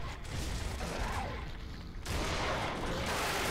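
Shotgun blasts in the video game Gears of War, loud dense booming fire filling the mix with a brief gap before another heavy burst.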